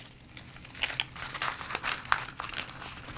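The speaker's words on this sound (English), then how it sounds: "we roll it up, and then we tape it closed" Crisp paper crinkles and rustles up close as a paper Christmas cracker is rolled up and taped shut, irregular crackling handling with small sharp snaps throughout.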